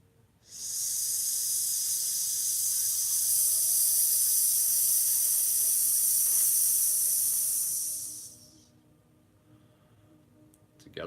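A single long, steady hissing S sound made by a human voice during a guided meditation, loud and sustained for about eight seconds before fading into quiet, imitating the sizzle of fire or a serpent's hiss.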